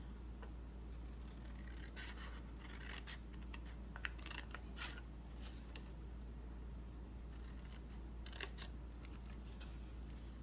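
Scissors cutting card along a score mark while making an Easter bunny treat box, heard as faint, scattered snips and scrapes over a steady low hum, with no talking.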